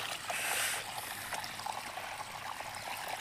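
Water pours and trickles into a room of a house under construction, a faint, steady running sound with a slightly louder splash at the start.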